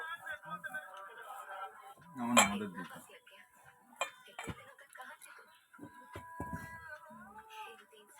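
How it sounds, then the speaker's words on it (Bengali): A spoon clinks and scrapes around a bowl while green cauliflower fritter batter is mixed with water. The taps are irregular and fairly close, with a person talking throughout. "এবার আমি এর মধ্যে জল দেবো জল দিয়ে এটাকে সুন্দর করে মাখবো"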